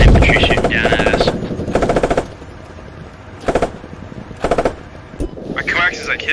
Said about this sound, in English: There's infantry shooting down at us.